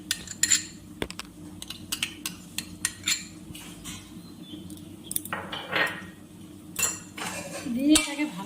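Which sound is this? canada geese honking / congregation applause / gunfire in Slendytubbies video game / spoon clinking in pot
spoon clinking in pot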